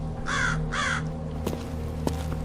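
A raven gives two harsh, hoarse croaks close together near the start, followed by faint clicks and a low background hum.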